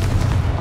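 A Confringo spell explosion in Hogwarts Legacy lands as a short, heavy, close boom with a deep thud, over in under a second.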